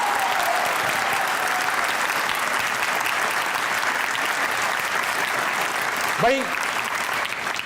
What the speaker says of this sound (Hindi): एक बार जोर से तालियां बजाइएगा क्योंकि आप लोग मौजूद हैं हंसना मना है में।